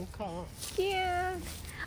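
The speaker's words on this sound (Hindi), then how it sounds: "हमको बिल्ली मिल गई." A cat meows outdoors on a Korean university campus, one long drawn-out meow after a shorter cry, close and clear, with people talking around it.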